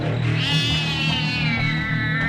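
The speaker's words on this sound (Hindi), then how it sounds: "दीवार के कोने से एक बिल्ली की चीख सुनाई देती है" A loud, drawn-out cat screech with a wavering pitch that rises then slowly falls, heard alone and close by.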